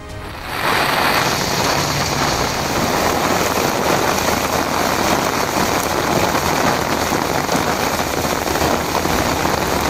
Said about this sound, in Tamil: வட சென்னையையும் புரட்டி போட்டது கனமழை.